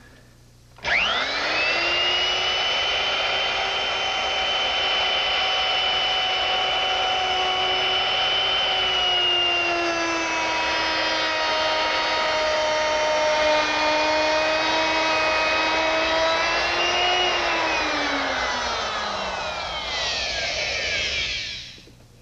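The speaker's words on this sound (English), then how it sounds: "But I can use my portable router, which I've equipped with a half-inch straight bit and a guide fence." A portable router fitted with a half-inch straight bit and guide fence cuts a groove in wood, a loud steady whine holding for about twenty seconds before dropping in pitch as it winds down.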